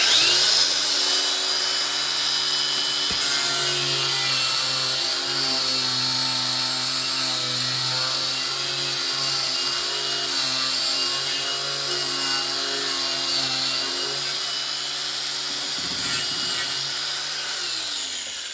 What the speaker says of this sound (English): I was trying to use that flapper wheel.